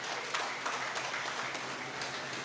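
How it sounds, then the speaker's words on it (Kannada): Audience applause for the speakers at a Kannada gathering, a dense, even patter of many hands clapping without pause. "ಅದಕ್ಕಾಗಿ ನಾವು ಈ ಕೆಲಸಕ್ಕೋಸ್ಕರ ಅವರನ್ನೊಂದು ಚಪ್ಪಾಳೆಯ ಮೂಲಕ ಅಭಿನಂದಿಸಬೇಕು"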